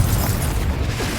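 A Confringo spell in Hogwarts Legacy bursts as a loud, booming explosion with a dense low rumble that fills the short moment and fades only slightly.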